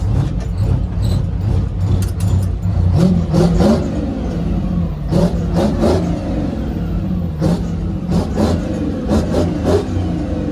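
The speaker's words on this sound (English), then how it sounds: "Can y'all hear the engine on this thing? Listen, 12 cylinders." A twelve-cylinder diesel engine with two blowers drones steadily up close, its low rumble swelling as it revs, with sharp clicks and knocks breaking through at intervals.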